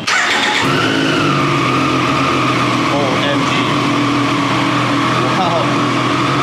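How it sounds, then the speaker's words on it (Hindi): Inline-three superbike engine starting from neutral and then settling into a steady, loud idle with a raspy hum, while a voice exclaims over it. "अब हम इसको स्टार्ट करने वाले हैं।"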